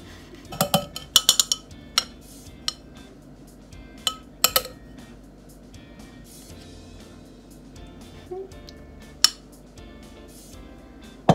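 Soft dessert being scooped onto a plate for Knickerbocker glories: sparse, sharp clinks of a spoon against dishes and glass ring out in small clusters over a quiet room, with no voices.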